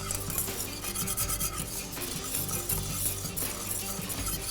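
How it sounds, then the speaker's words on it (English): Continuous rasping, scraping strokes of a spoon or spatula working a thick mixture in a pan taken off the fire, steady and close with a low hum underneath and no talk. "So you take it off the pan, off the fire, and keep mixing for about a good 4 minutes more."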